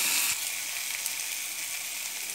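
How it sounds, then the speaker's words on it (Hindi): Garlic paste fries with onions in a pan for a halwai-style mixed vegetable curry, a short, steady close sizzle that starts with a slightly louder burst and holds evenly, with no speech. "इसे तब तक भूनूंगी जब तक लहसुन तो कच्चापन दूर नहीं हो जाता।"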